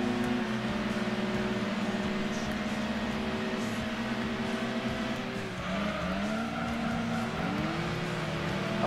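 Engine roar in Gran Turismo 2, climbing through the revs with harmonic whine, a shift dip near the middle before pulling up again, steady and loud throughout.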